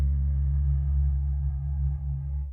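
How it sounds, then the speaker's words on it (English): A deep, sustained bass tone from a looper, carrying a subtle reverb tail while it holds steady and then fades off quickly at the end, heard on its own with no talking. "now, listen to the bass. It's got like a little bit of a reverb."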